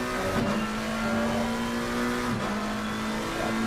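A race car engine in Assetto Corsa Competizione at the Silverstone 6 Hour endurance race, a loud, steady high engine note holding as it accelerates, with two sharp pitch drops from gear shifts.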